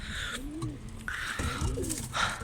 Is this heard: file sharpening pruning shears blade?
no